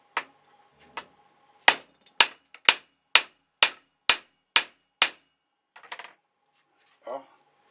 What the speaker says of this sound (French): la possibilité d'écraser l'écrou au marteau.